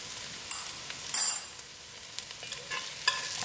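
Spices including cinnamon and thyme being stirred into a pot of chunky butternut soup, with soft scraping and a light sizzle and a few sharper utensil clicks, close and alone without talk.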